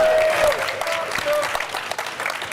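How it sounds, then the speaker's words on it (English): A conference crowd claps steadily after a panel, with dense applause filling the room and a whistle or two cutting through near the start. "Let's get some applause."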